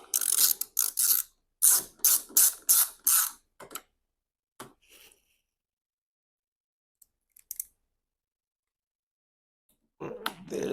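Ratchet wrench tightening bolts on the rear driver's vent window of a 2005 BMW X3, two loud bursts of rapid clicking close up, then scattered faint clicks, quiet pauses and a final burst of handling noise.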